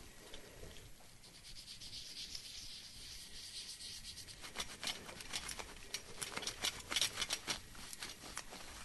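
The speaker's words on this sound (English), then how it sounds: "Fast forwarding here so nobody has to just watch me rubbing a rag all over this" A soft rag rubbing over a Svea 123 camping stove, producing a steady, quiet scrubbing swish that turns into quicker, scratchier strokes partway through.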